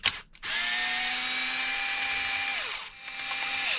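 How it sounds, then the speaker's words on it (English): A power driver backs out screws on a repair bench, with a sharp start, a steady motor whine for about two seconds, a brief pitch drop, then a second run, all close and loud. "Let the driver kind of just find its way."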